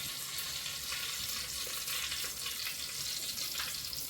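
Crab frying in a mix of coconut oil and ghee, giving a steady, close hiss and crackle of sizzling that holds without a break and has no voices over it.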